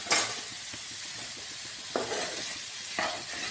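Chicken pieces with salt are stirred in a pan while cooking without oil, with a soft continuous sizzle and occasional scraping strokes and light clinks of a utensil against the pan.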